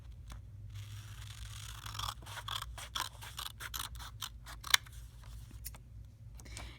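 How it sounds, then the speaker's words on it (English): Scissors snip through plain or colored paper along drawn lines for a paper bracelet craft, a quick run of close, crisp cuts and rustles in an otherwise quiet room. "all I'm going to do is I'm just going to cut along my lines"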